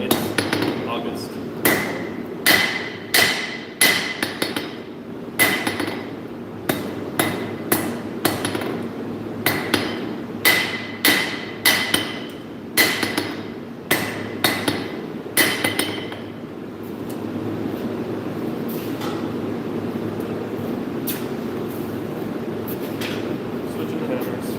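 Hammer blows forging metal on an anvil, loud ringing clanks in quick rhythmic bursts that then stop, with people talking around the work.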